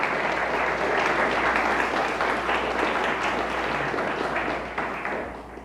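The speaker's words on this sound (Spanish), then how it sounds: "Denle fuerte el aplauso a Él" Sustained, loud congregational applause fills a church service, a dense steady wash of clapping from a large crowd that fades slightly toward the end.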